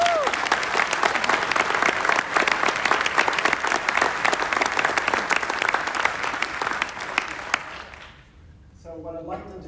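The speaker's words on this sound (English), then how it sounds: "just a quick round of applause for four of the most remarkable people" A crowd claps in sustained, dense applause that fades out after several seconds, followed by a voice beginning to speak.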